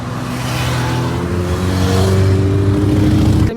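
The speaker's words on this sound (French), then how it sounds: "il y a une magnifique et rare Clio Williams" A rare Renault Clio Williams passes close by, its engine note loud and rising as it accelerates, then cut off abruptly at the end.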